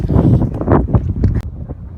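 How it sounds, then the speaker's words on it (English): Gusty wind near the Sydney Opera House thumps and rumbles against the microphone for a couple of seconds, close and loud. "Oh, it's so windy."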